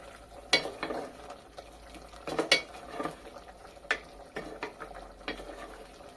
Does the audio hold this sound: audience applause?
no